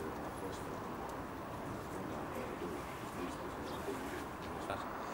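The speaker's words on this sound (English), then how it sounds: "All right, Steve, thanks very much for letting me see your pigeons today, mate" Racing pigeons coo softly in a loft, a steady low murmur of several birds blending with faint background noise.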